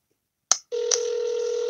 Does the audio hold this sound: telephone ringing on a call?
yes